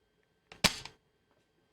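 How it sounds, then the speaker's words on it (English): A spring-loaded desoldering pump fires once to clear solder during repair of a Panasonic RQ-R1 personal cassette player, giving a sharp snapping click with a brief rattle, close and alone in a quiet room. "Let's see what this desoldering pump can do."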